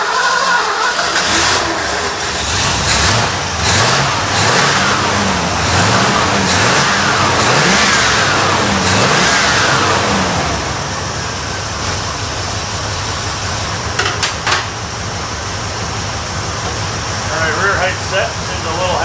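A truck engine, a swapped-in boat motor with a carburetor, runs close by, revving up and settling back toward an idle with a steady mechanical hum; a voice talks over it at times.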